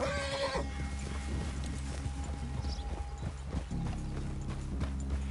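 Horse hooves in the game Red Dead Redemption clip-clop steadily on the ground, moderately close, with a brief whinny at the start and a low ambient hum beneath.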